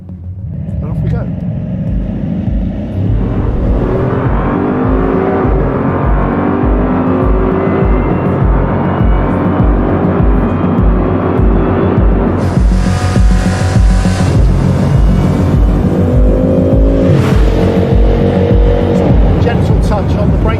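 A Bugatti Chiron accelerating hard to its 420 km/h top speed, a loud continuous engine roar with rising gear-by-gear pitch sweeps and a sharp shift in tone midway, wind rush heavy over a brief voice.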